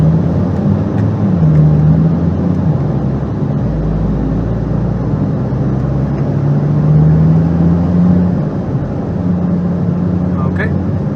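An Audi TT RS Mk1 with a CEPA engine and stage 1 tune drones steadily in fourth gear, a continuous in-cabin engine hum that rises gently in pitch at moderate loudness.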